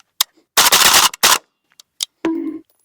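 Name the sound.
AK-101 rifle firing 5.56 rounds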